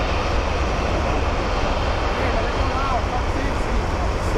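A passenger airplane taking off from runway 28 right at Guarulhos International Airport in São Paulo gives a loud, steady roar of jet engines that fills the whole clip without a break.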